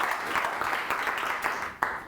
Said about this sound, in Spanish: Regálele un aplauso al Señor.